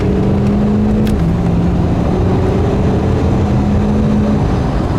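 A 2016 Ford F-350 pickup with a 6.7 Powerstroke diesel, tuned to around 600 horsepower, pulls hard at speed with a loud, steady engine drone and a droning tone that dips briefly then holds.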